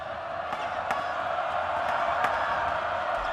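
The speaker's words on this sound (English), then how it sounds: "Pogoy feels the cheers" A basketball arena crowd cheers and roars steadily during free throws, loud and sustained, with a few sharp claps or whoops cutting through and commentators talking underneath.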